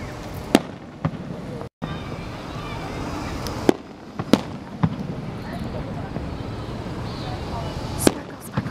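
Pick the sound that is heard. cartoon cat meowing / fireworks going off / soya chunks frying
fireworks going off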